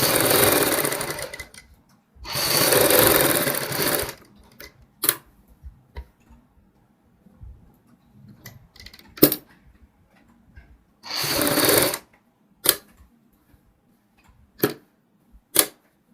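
A sewing machine stitches a patch piece onto a kurti front neck in three short, close, loud whirring runs, separated by quiet pauses with scattered clicks and ticks.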